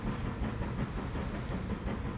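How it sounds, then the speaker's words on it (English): A passenger train sets off in the railway simulation game Transport Fever 2, a steady low rumble with soft rhythmic clatter and faint hiss, moderately quiet and with no talking. "Passenger train is off."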